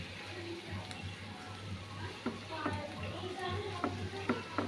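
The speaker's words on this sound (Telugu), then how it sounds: "దీనిలో ఒక స్పూన్ అంతా ఆయిల్ వేసుకున్నానండి. దీనిలో ఈ బ్రెడ్ వేసుకుని రోస్ట్ చేసుకున్నామండి." Bread roasting in a spoonful of oil in a pan on a stove, a soft steady sizzle with faint scattered clicks and taps, quiet and close.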